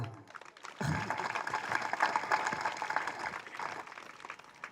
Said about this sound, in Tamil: கைத்தட்டுங்கம்மா